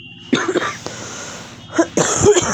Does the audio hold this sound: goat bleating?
no